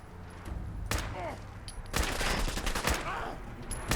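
Gunfire in the video game Fallout 4: bursts of sharp, loud shots in rapid succession, including a longer run of repeated fire, with a voice talking faintly underneath.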